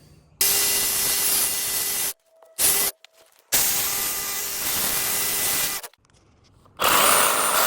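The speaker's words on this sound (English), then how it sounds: "I'll have to grind a good bit here, but The rest of this, I should just be able to hit this edge with the flap disc" An angle grinder with a flap disc grinds a weld on a Chevrolet truck shock crossmember in loud, steady, abrasive bursts, with several runs of a few seconds broken by short pauses.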